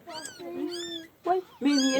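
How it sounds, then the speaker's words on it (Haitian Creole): Newborn kittens, two born to a mother dog in Haiti, cry out in several high, wavering meows with brief gaps, close and clear, with no talk over them. "Petit petit chat yo,"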